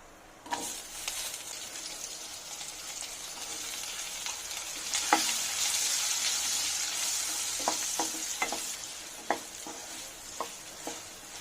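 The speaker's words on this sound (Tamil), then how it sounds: "தண்ணி ஊற்றாமல் இப்படி கையில் கிளறி விட்டு வேக வச்சுக்கலாம்." Raw mango pieces with ginger and asafoetida sizzle steadily in a pan on low heat for pickle while a utensil stirs and scrapes, giving sharp clicks and scrapes at irregular moments, close up and without talk.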